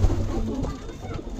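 Fancy pigeons in a loft, a soft low cooing murmur close by over a short stretch, with faint background voices.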